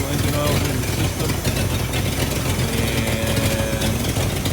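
A 1978 Ford F250 diesel engine idles close by, a loud, steady rough rumble clattering without pause, with someone talking over it.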